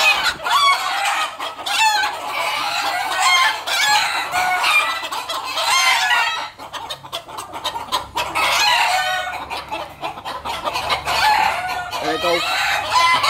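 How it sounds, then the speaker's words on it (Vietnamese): Chickens cluck steadily on a poultry farm while roosters crow loudly and repeatedly nearby, with a short quieter lull partway through. "đây là nguyên con gà siêu mỹ nha"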